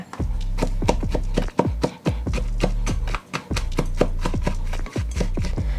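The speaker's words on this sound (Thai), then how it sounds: "ถ้าเกิดว่าใครมีแบบเป็นเม็ดๆนะคะก็เอามาสับๆหน่อยนะคะ" A knife chops cashew nuts on a board with rapid, sharp, close knocks in a steady rhythm, broken by a few brief pauses.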